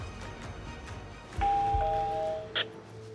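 A doorbell rings once with a clear two-tone chime, close and fairly loud after a soft thump, over quiet room noise.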